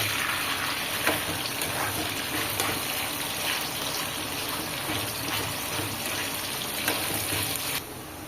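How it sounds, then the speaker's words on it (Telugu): Boneless chicken pieces deep fry in hot oil with a loud, steady, hissing sizzle that continues throughout and drops slightly in level near the end. "ఇప్పుడు మనం తిప్పుకుంటూ డీప్ ఫ్రై అయ్యేదాకా చూసుకోవాలి"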